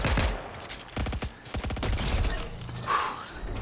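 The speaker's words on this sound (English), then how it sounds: "Ooh, he's still shooting." Rapid bursts of gunfire from the Fortnite Battle Royale shooter game crackle in several quick volleys, moderately loud, separated by short pauses, with no talking.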